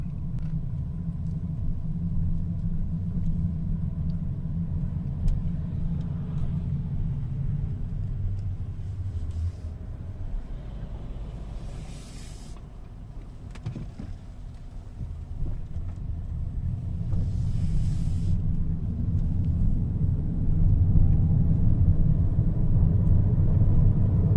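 A Haval H6 HEV hybrid car drives along, with a steady low road rumble and engine drone heard from inside the cabin, swelling slightly toward the end with light wind noise.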